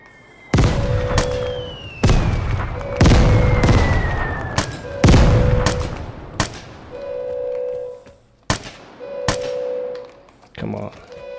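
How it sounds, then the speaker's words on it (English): Gunfire in the online shooter Vigor: several loud bursts of shots, each followed by a ringing tail, spread through the clip. A steady tone and scattered clicks sound between the bursts. "There's someone shooting down there."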